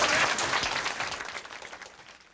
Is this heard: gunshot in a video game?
no